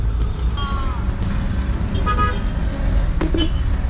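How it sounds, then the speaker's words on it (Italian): Several short car horn toots sound over a heavy, rumbling city traffic background in Peru, with a voice briefly audible. "Qui le regole si fanno col clacson, cioè tu suoni e passi."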